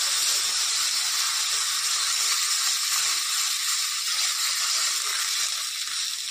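Spice paste for an Indian fish curry sizzles and steams steadily in a pan after water is poured in, a loud continuous hiss with no voices.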